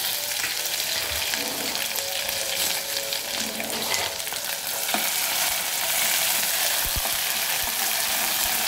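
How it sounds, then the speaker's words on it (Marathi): Garlic fries in a pan for a spicy prawn curry, giving a loud, dense, continuous sizzle up close that runs the whole time with only faint utensil sounds underneath. "हा लसूण घालूया। लसूण थोडंसं लाल झाला की हे वाटण केलेलं ते घालूया।"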